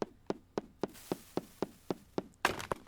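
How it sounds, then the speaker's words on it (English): Repeated hammer strikes breaking open a chest in the video game Junk Jack, about ten evenly spaced sharp thunks in steady rhythm, ending with a louder burst as the chest breaks. "can I just break it open with the hammer now"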